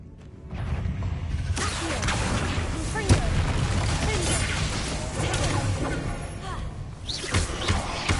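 Spell explosions from the Confringo curse in Hogwarts Legacy burst amid dense, continuous game sound, with a sharp crack near three seconds and further bangs toward the end, and a voice speaking over it.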